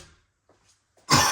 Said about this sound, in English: so excuse the coughing